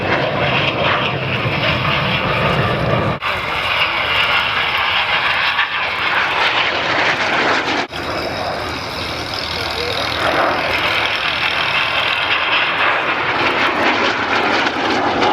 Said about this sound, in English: To keep it within sight of running in close to 400 knots, the F-86 Sabre.